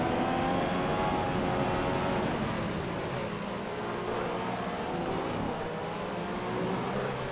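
Racing engines in F1 2015 during practice at the Chinese circuit, a steady high-pitched whine of cars droning and shifting pitch as they pass, with no talking.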